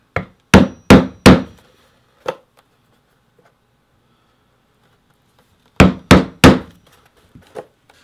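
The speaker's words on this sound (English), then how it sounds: "I'm just going to mark with my stitching chisels, and then I'm going to punch all the way through with my awl one hole at a time" Stitching chisels are hammered through thick leather in sharp, loud strikes: a quick group of four blows and a lone hit, a pause, then three more blows and a softer final tap.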